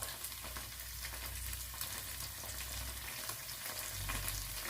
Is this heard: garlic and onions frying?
yes